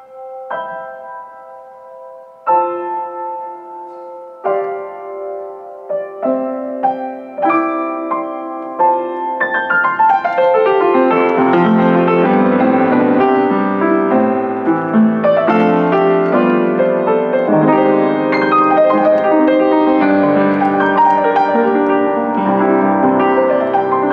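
An used Osztreicher upright piano played with its lid propped open for a brighter tone: single notes and chords at first, then a rich, sustained passage filling the room, close and loud with no talking.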